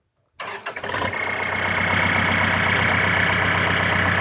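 A Kubota L4708SP tractor fitted with FKL exhaust pipes cranks briefly and fires up, its diesel engine settling into a loud, steady idle close by with a rich rumble and no voices.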